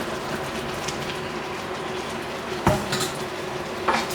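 Vegetables tumble into a hot wok for Cantonese sweet and sour pork, giving a steady sizzling hiss with a couple of sharp clatters of metal utensil against the pan near the end.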